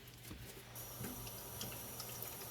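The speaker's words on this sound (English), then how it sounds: "run this under some water to get it expanded and ready to use" Tap water runs steadily into a sink over a zero-waste dish sponge, a constant hissing splash that stays even throughout with no voices.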